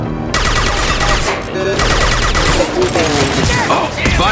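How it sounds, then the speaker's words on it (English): Sci-fi weapons fire in the game Mass Effect 2, a fusillade of rapid, loud shots cracking almost without pause, broken by a short lull, with sharp impacts and battle effects layered throughout. "firing a high impact shot"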